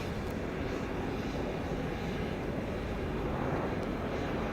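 An airliner rolling out after landing at Dallas Love Field with spoilers up and thrust reversers deployed, a steady loud broadband engine roar that holds constant throughout.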